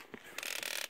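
A ratchet winch anchored to bedrock is cranked outdoors to shift big rocks, giving a brief, near run of rapid metallic clicks after a single click.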